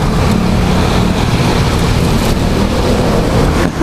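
Water sprays loudly as Honda Click scooters and other vehicles drive through a flooded street, a dense, continuous rushing splash close to the rider that stays strong throughout.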